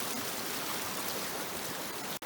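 A river flowing beside a winter campsite, a steady broadband rush of water filling the whole stretch at an even, fairly loud level with no voices.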